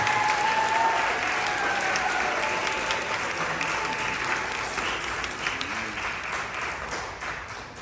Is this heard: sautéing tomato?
no